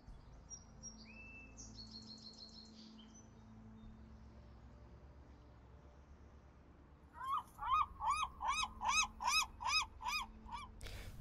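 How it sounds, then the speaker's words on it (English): Loud, close gull-like calls burst out in a rapid rhythmic series of about nine cries near the end, after a long stretch of quiet background hum and a few faint high calls early on. "These fucking seagulls."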